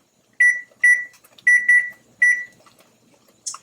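A kitchen timer, set for one minute while peach jam comes to a hard boil, gives five short, clear electronic beeps at an uneven pace, loud and close, followed by a brief higher chirp near the end.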